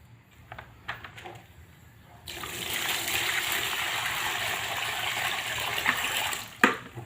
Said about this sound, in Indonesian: Kemudian kita tambahkan air.